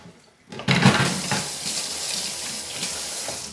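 Hot water running from a kitchen tap during home cooking, a steady broadband rush that starts abruptly after a brief quiet moment and continues loudly and evenly to the end.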